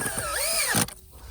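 A cordless power drill drives temporary screws into 2x4 lumber for a backyard wooden mountain-bike roll-in, a close whirring motor that ramps up in pitch, holds and then cuts off abruptly near the end.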